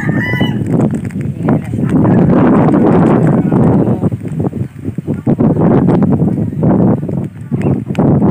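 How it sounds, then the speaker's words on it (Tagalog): Strong wind buffets the microphone outdoors in a rural provincial setting, a loud continuous roaring rumble with gusts, while fowl call faintly and a voice speaks briefly. "Malakas ang hangin guys."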